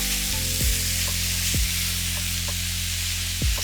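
Beef browning in a curry pot, a steady loud sizzle and crackle of frying meat running throughout, with a few brief stirring scrapes punctuating it; no voices.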